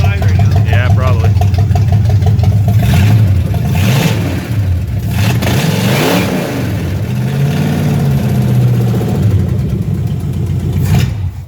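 A 1965 Ford Mustang Fastback's engine runs loud and steady inside a chilly garage, rising into revs and settling back toward idle over its first start in decades.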